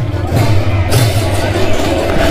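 Dense crowd hubbub at the Raikera Jhula Rath Yatra festival in Chhattisgarh, a steady loud babble of many voices with low droning tones running underneath throughout.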